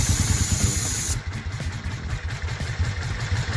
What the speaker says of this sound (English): Spray a little bit of that inside the carburetor.